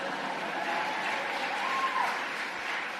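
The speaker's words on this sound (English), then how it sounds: "Tepid applause." Lukewarm applause from the crowd at a political event, a steady, even spread of clapping that neither builds nor fades, heard a little distant.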